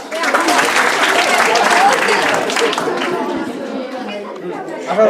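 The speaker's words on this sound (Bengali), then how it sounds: "সবাই হাততালি দাও" Schoolchildren at a girls' day celebration in a village school clap together in a loud, sustained burst, with lively chatter and voices mixed in.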